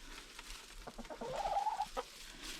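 Soft, quiet chicken clucks and murmurs nearby, a few short calls rising briefly in the middle against a low background hum.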